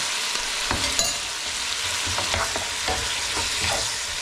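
Big onions and a thick sauce fry in a pan while being stirred, a loud continuous sizzle broken by several scraping strokes of the spoon, with no voices.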